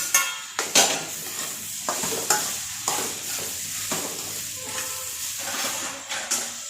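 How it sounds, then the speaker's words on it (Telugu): Drumstick pieces stirred and sautéed in a pan with onions and masala, a steady close sizzle of frying under repeated scraping stirs that come in short bursts about every second, with no voices. "ఇప్పుడు మునక్కాయలు వేస్తున్నా."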